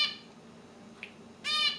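Birds squawking outside near a plant, a short harsh call at the start, a faint chirp midway and a louder squawk near the end, heard alone without talk.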